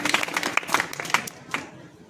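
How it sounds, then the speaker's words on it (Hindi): An audience at an NMMS exam gathering claps briskly in a short burst of irregular, close-sounding hand claps that thin out after about two seconds. "आप अपने लिए एक बार जोरदार ताली बजा लें"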